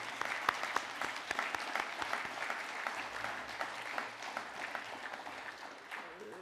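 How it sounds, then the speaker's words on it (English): Steady applause from an audience at the Nillumbik Shire Council Australia Day Awards ceremony, a dense, even patter of many hands clapping at moderate level, with a few sharper claps standing out. "If we could just perhaps look for some applause for the council staff."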